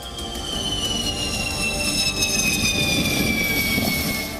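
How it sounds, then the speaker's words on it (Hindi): A Rafale fighter jet flies past during India's Vayu Shakti air exercise at Pokhran, a steady, loud roaring whine with a slowly falling pitch, sustained throughout with no talk. "दमदार युद्धाभ्यास पे रणवीर राफेल ने भी भारी भरकम बम से टारगेट को खाक में मिला दिया"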